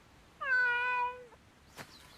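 A small cat gives a single clear, drawn-out meow close by in a quiet room, followed by a brief faint rustle.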